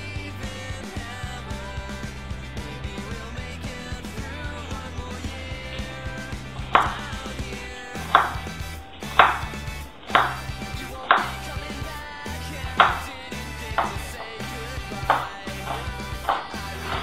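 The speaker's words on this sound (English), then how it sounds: "So I'm going first to cut the onions." A knife chops onions on a board, with a run of crisp, regular strikes about a second apart that starts partway through. Background music plays throughout.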